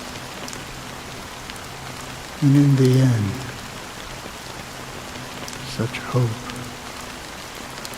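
Steady rain falls throughout a scene in the video game Honkai: Star Rail, a soft constant hiss beneath a brief spoken line from a character.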